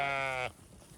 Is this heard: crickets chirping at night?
no